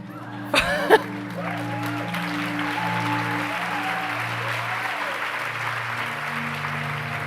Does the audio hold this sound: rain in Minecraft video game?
no